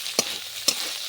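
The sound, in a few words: frying and stirring tomato masala on low heat for prawns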